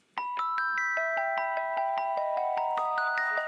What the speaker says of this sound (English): I wanted to use a Celeste.